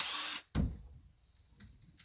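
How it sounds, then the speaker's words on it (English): A cordless power drill on a wooden speaker box whirs in a short, loud burst that cuts off abruptly, followed by a hollow knock on the wood and a few faint handling clicks nearby. "Get my drill."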